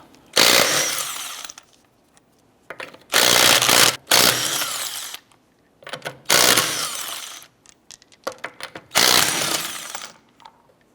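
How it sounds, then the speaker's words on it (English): An impact wrench with a 19mm socket spins off the lug nuts on a 2004-2008 Acura TL wheel, giving five loud, close bursts of roughly a second each, separated by short quiet gaps. "Using a 19mm socket, let's go ahead and remove our lug nuts."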